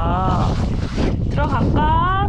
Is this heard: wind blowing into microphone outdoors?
yes